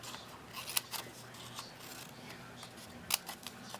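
Scissors snipping paper while shaping a homemade Christmas flower, giving a few crisp, close snips over a faint rustling background.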